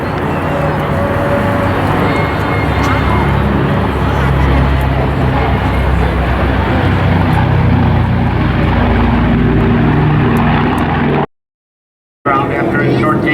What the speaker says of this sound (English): as we watch right now on the takeoff roll right now, you can see the F-7F I should say, as it winds up out there